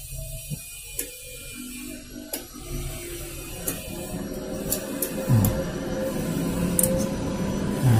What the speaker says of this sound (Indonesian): Nanti di sini akan satu demi satu dia akan nyala bergantian.